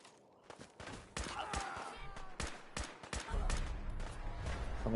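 Big guns firing in a video game, a burst of loud gunshots in irregular rapid succession, some in quick clusters, with a voice talking over them.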